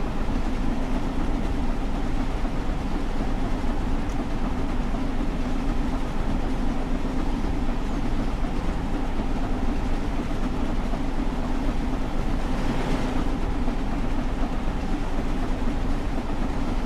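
Steady train running noise in Train Sim World 5 on the West Coast Main Line between Preston and Carlisle, a continuous rumbling rail roar with a low hum, unbroken and fairly loud throughout.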